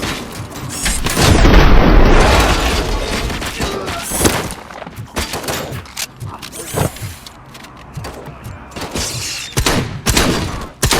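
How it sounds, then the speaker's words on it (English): A frag grenade goes off in the RoboCop: Rogue City shooter game as a loud, rumbling blast, followed by scattered gunfire and lighter thuds. "Throwing frag!"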